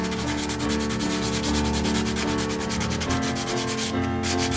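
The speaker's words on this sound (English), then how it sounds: "just sand those off" Light hand sanding of the raised high points on paper coasters sealed with Mod Podge, a steady close rasping rub that continues without pause.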